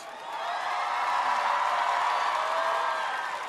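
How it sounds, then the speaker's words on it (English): A large festival crowd at the Global Citizen Festival claps and cheers in a steady, distant wash of applause for a few seconds. "give her a big round of applause"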